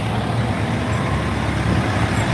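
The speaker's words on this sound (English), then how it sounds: "There's a giant truck." A giant truck rolls past nearby, its engine and tyre roar a steady, loud rumble on a street, with no other sound on top.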